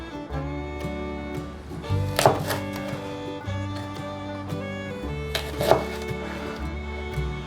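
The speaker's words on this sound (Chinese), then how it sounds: "把秋葵对半切" A knife cuts okra pods in half on a board, with two distinct sharp chops a few seconds apart, heard under steady background music.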